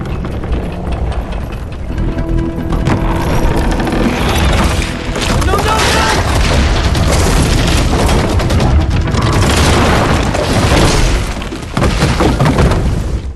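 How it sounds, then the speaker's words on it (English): Shotgun fire against pirates in the Far Cry 3 video game, a dense loud barrage of booming blasts with shattering and breaking crashes filling the whole stretch, close and unbroken. "that's nothing the shotgun can't deal with"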